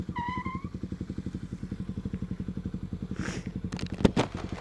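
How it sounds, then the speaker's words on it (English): A white motorcycle runs close by with a steady, rapid thumping engine beat; a short chirp sounds at the start and some clatter comes near the end. "He's on a white motorcycle."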